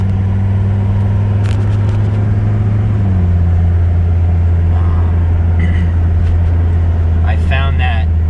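Mercedes W123 Coupe on a night drive home, a constant low engine drone with road noise that shifts slightly in pitch partway through, as a voice speaks briefly over it.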